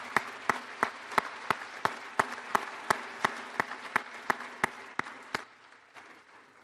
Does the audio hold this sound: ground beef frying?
no